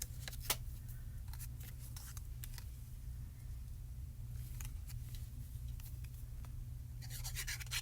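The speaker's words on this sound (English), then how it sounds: "I'll just cut off any of the excess that's hanging off the sides." Scissors trimming excess background paper off the sides of a small craft scene, giving a series of quick, light snips and crisp paper rustles over a steady low hum.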